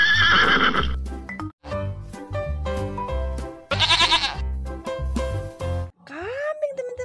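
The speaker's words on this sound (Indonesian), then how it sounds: "Wow, ada kambing ini." A goat in a children's cartoon about a sand and gravel truck bleats loudly in two long, wavering cries over bouncy music, with a voice also heard.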